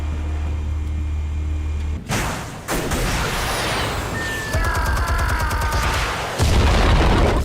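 Armed explosives go off in Batman The Telltale Series, a loud booming blast followed by crashing debris and rumbling, layered over a dense game soundscape with no talk.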